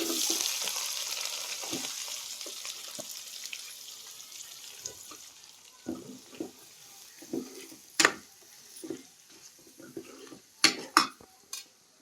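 Onions frying in a pan with prawns hiss with a steady sizzle that fades gradually, then sharp spoon scrapes and clinks against the pan come through, close and without talk.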